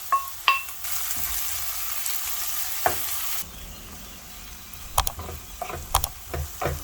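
Chopped tomato frying in a pan for masala macaroni, a steady sizzle broken by several sharp clacks and scrapes of a spoon stirring, close and moderately loud.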